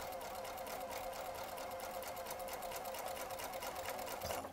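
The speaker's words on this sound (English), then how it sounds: "and then I can sew right off." Domestic sewing machine stitching cotton quilt pieces for a Lemoyne Star block, a fast continuous close mechanical whirring hum with rapid needle clatter that slows and stops at the end.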